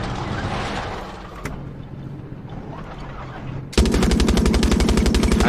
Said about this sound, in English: why is the tank shooting by itself?